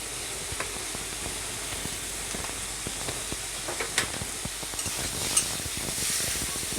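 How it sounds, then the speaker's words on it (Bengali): Small fish frying in a pan with salt and turmeric, a steady close sizzle and hiss with scattered pops and spatters throughout, no voices. "বেশিক্ষণ ভাজবো না, আমি শুধু একটু কালারটা চেঞ্জ হলে আমি নামিয়ে নেব।"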